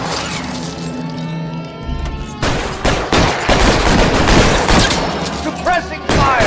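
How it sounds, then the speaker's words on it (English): Loud, dense bursts of gunfire in the L.A. Noire shootout at Nicholson Electroplating, with rapid overlapping shots, shattering impacts and crashes building after a brief lull, while voices call out under the firing. "Suppressing fire."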